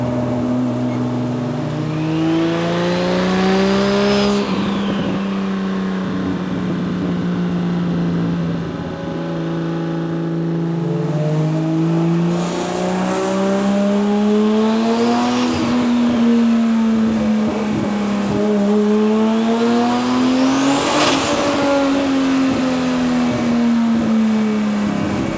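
A 1978 Datsun 280Z accelerates hard with its wheels spinning, the loud engine climbing through several rising pulls and dropping back between them, sustained and close with no talk.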